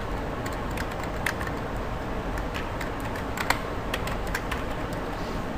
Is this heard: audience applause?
no